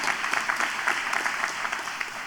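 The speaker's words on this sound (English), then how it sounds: "Let's give him a round of applause." An audience at a university graduation ceremony in Hanoi claps in a dense, steady round of applause that holds at an even level throughout.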